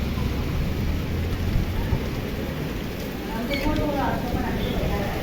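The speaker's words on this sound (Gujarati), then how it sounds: "પવન સાથે વરસાદ છે" Rain pours steadily with wind, a broad hiss of falling water and gusts all the way through, and a voice speaks briefly over it.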